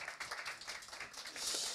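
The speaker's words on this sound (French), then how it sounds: "Je pense qu'on peut l'applaudir parce que franchement, Chapeau." Faint applause from an audience for a comedian, steady light clapping throughout with a slight swell near the end, no voices over it.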